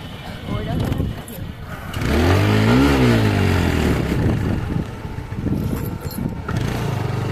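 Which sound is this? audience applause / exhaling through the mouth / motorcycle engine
motorcycle engine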